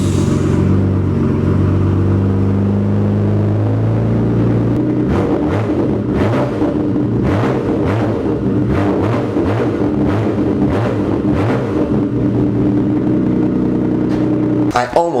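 Straight-piped Nissan R32 GTR engine cranking, then firing into a loud, raspy, lumpy idle with sharp blips of revving, close and dominant.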